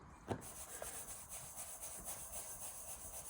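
A container of dry rub spice mix with garlic powder, cayenne and celery salt is shaken, giving a soft gritty rustle with a sharper knock near the start, quiet and close.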